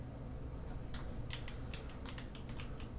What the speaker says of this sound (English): So I'll just start typing Arnold and pick Schwarzenegger